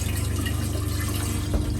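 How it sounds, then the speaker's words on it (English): Water rushing steadily through an RV toilet as its foot pedal is held down, a continuous close wash with a small splash near the end and no talking. "Often you'll want to push it down for 10 or 15 seconds more just to flush some more if you need to."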